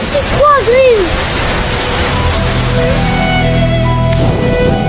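Rain pours as a loud, steady hiss that fills the whole scene, with a brief voice near the start and the downpour continuing unbroken afterward.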